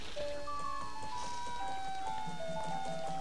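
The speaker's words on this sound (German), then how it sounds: "Und es regnet hier." Steady rain in the Zelda game Majora's Mask, falling in the town's southern area, a continuous patter and hiss of drops heard alone alongside faint tonal game music.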